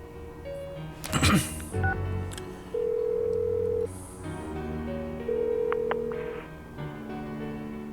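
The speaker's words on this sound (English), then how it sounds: "Give her another call." Phone dialing tones in the video game Persona 4 Golden, with a steady ringback beeping in two long tones over background game music and a brief burst of noise near the start.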